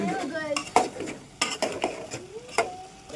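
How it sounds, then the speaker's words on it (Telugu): Chilli powder stirred into mutton curry in a metal pot, with a string of scraping and clanking spoon strokes over a soft sizzle, and a voice speaking intermittently between them. "కారం వేసుకొని మంచి కలుపుకుందాం"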